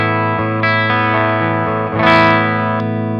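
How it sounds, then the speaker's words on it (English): An electric guitar plays through a Prometheus pedal on its clean channel with the warm setting, giving a dark tone. A few picked notes and chords ring out with sustained, slightly driven harmonics. "So that is the clean channel of the Prometheus in the warm setting."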